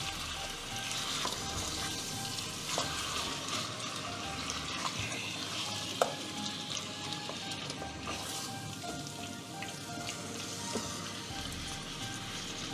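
Green hariyali chicken is stirred as it fries in a pan, giving a continuous crackling sizzle with scattered scraping clicks and one sharp knock partway through. No one speaks.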